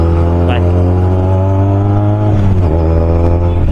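Motorbike engine droning steadily and revving loudly up close as boys ride off pulling a wheelie without helmets, the pitch dipping and rising near the end.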